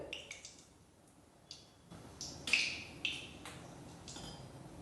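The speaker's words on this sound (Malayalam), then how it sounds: "ജീരകം പൊട്ടുന്നുണ്ട്." Cumin seeds crackle in heating oil in a pan, giving sparse, quiet little pops and ticks scattered over a faint background, with no talking.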